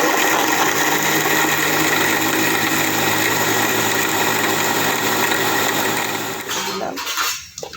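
An electric blender whirs steadily as it blends a yogurt lassi with its lid on, a loud continuous motor hum with rattling that winds down near the end.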